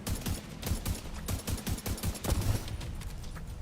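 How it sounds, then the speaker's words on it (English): Rapid sniper rifle shots crack in The Division 2 near an oil refinery, a series of sharp, loud reports in quick rhythm with no talking over them. "pop the other one in one shot with the super sniper rifle"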